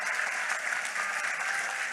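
Audience applause at a community college stage production, steady dense clapping from a crowd that fills the whole stretch at an even loudness.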